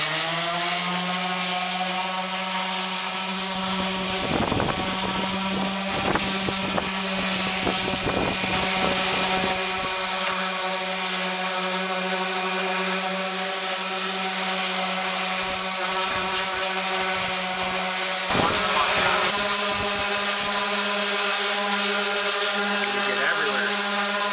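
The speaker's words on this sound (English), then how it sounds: "we're using a random orbital sander" A random orbital sander runs against wooden boards being smoothed for an animal fodder system, a steady, close, whining motor drone that continues throughout with a few rougher bursts of contact.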